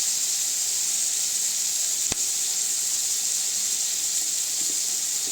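Steady close hiss of frying oil for a village-style curry, a continuous sizzle with one brief click partway through and no voices.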